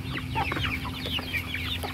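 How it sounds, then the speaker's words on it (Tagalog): Chickens at a small poultry farm cluck and chirp in quick overlapping calls over a steady low hum, several birds close by, no speech. "So nandito na naman tayo sa ating munting manukan."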